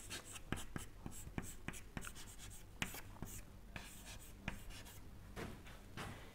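Equations are handwritten during a lecture, a steady stream of faint scratchy pen or chalk strokes with sharp taps and clicks, over a low room hum.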